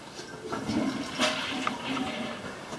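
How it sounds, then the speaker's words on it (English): A toilet flushes in a newly built house in North Texas, its rushing swirl of water steady and close for a few seconds, with no talking over it. "Commode's fine, they all flush."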